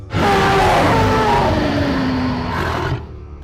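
A bear lets out a monstrous, sustained roar, loud and close, lasting about three seconds with a rough growling texture before cutting off.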